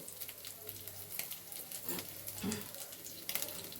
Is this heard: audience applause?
no